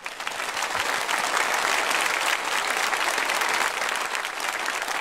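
A church congregation gives sustained applause during a Sunday service as visiting missionaries from Kenya and Ukraine stand to be greeted; dense, even clapping fills the whole stretch at steady volume.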